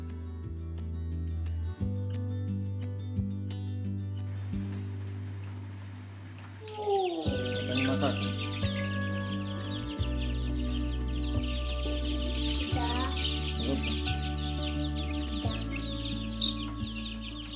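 Small chicks peep and cheep in a brooder, with high chirps over a steady low hum from the heating and brief clucks, close and continuous.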